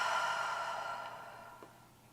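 Slow, steady exhale during a seated chair yoga tension-release exercise, an airy breath out that fades gradually over about two seconds, close and gentle, with no talking.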